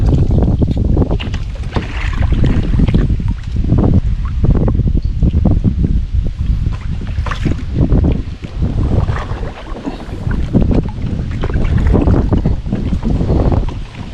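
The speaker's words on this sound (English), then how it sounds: "But this wind is just biting me." Strong wind buffets a small boat on a lake during a fly fishing trip, a loud, continuous gusty roar with rumbling microphone wind noise and faint water sounds throughout.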